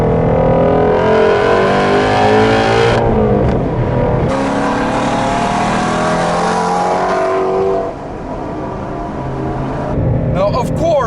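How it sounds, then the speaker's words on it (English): A 2017 Shelby GT350 engine revs hard while driving, rising and falling in repeated climbing sweeps, loud and close, easing off toward the end as someone talks over it. "The way this engine revs, the way this engine sounds, you cannot get enough of it."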